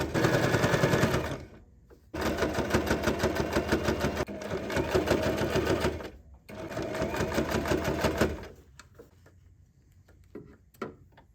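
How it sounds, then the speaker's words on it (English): A sewing machine top-stitches a tote bag 1 millimeter from the edge, running in three loud, steady bursts of rapid stitching separated by short pauses, then stopping into near quiet. "Now sew them together by top stitching it 1 millimeter from the edge."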